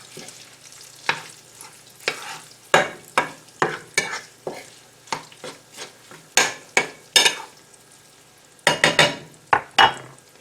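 Sausage on low heat in a pan, a soft background sizzle broken by a series of sharp scraping stirs and utensil knocks against the pan, irregular and close, with no talking.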